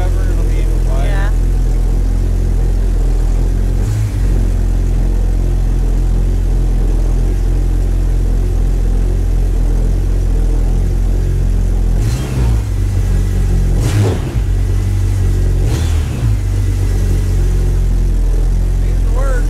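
A small homemade mini jet boat engine runs steadily at a low, rumbling idle throughout, with a few brief revs near the middle and people talking faintly over it.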